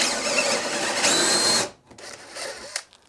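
A power drill runs forward in a wooden chair mortise, clearing out old glue with a loud, steady close-up whir for about a second and a half, then quieter intermittent scraping as it eases off.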